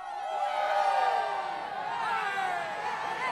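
A stadium crowd of fans in a football video game's career mode, a broad roar of cheering and chatter that stays fairly distant and steady, with a few whoops rising out of it.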